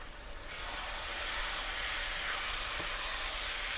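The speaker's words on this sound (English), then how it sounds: "at this point we're just browning the beef" Ground beef browning in a pan for chili gives a steady, broad sizzle that swells in over the first half second and then holds loud and even, with no talking.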